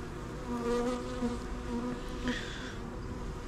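Honeybees hum steadily around a brood comb from an Apidea mating box, a close, continuous buzz with individual bees rising and fading in pitch as they fly past.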